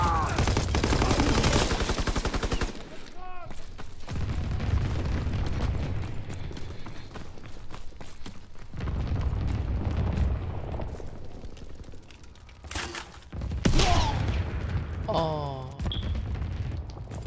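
Anti-aircraft flak guns fire in a World War 2 video game, bursts of booming shots and rattling gunfire in heavy clusters, with a voice speaking over parts of the barrage.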